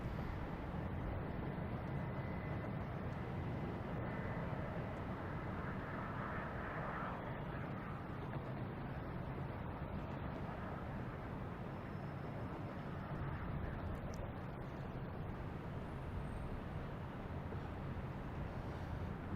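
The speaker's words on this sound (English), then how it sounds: "we have a United JetBlue taking off, head to Cleveland" A United Airbus A220 jet takes off at Boston Logan Airport, a distant, steady roar of jet engines under broad rumbling noise, with bursts of high chirping birds or insects nearby and no talking.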